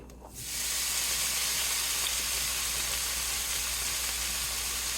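Seasoned skirt steak (ranchera) sizzles steadily in a hot pan, a continuous close hiss that starts abruptly and holds at an even level with no talking.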